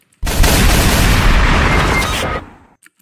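A grenade launched from the MGL grenade launcher in the Roblox game Arsenal explodes in one loud, sustained boom lasting about two seconds before cutting off, with no talk over it.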